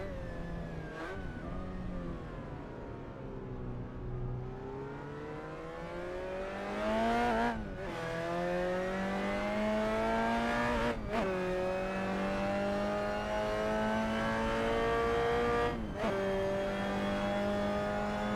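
A 1960s Lotus Cortina racing car engine in a racing video game screams steadily, its pitch sliding up and down as it shifts gears several times. No voices.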